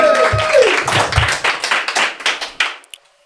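An audience claps in a brisk, uneven burst of handclaps that thins out into scattered individual claps before stopping, with a short tone at the start.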